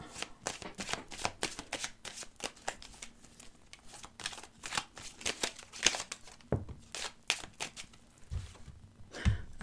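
Tarot cards being shuffled for a seven-card reading: quick, dry riffling bursts of card on card, close and steady throughout, with no one talking.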